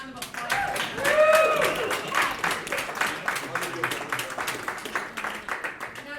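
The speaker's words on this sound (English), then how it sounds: "Give a round of applause." Audience at a live stage show, The Anarchy Fun Time Show, claps in a steady burst of many hands lasting several seconds, with a voice calling out over the start.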